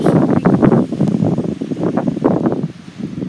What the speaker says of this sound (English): Oh my god, wind is blowing